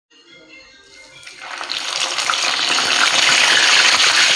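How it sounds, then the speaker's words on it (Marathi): Green chillies dropped into hot oil for vada pav, a sizzle that swells from quiet to a loud, steady crackling hiss within a couple of seconds, close by. "त्या अगोदर मिरची तळून घेऊ आपण"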